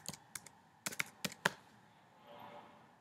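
Typing on a computer keyboard comes through as a burst of sharp, close key clicks in an uneven rhythm, followed by quiet room tone and one last tap at the end.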